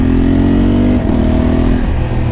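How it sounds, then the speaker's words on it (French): A Honda Africa Twin 1100 motorcycle engine revs loudly and steadily up close, its deep exhaust rumble rising and falling in pitch throughout. "Elle a fait un bruit de Harley, son échappement, c'est impressionnant."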